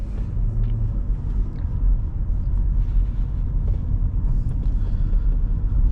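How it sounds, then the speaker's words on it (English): From inside a 2017 Nissan Rogue SV on the move, a steady low road and engine rumble drones continuously with light wind noise and faint cabin rattles, and no one speaks. "let's go take this Rogue for a drive"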